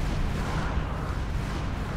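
A large cannon fires aboard a ship in a naval battle game, giving a dense, heavy, sustained boom that rumbles continuously at steady loudness for two seconds.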